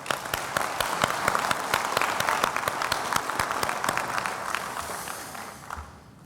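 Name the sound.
graduation ceremony audience applause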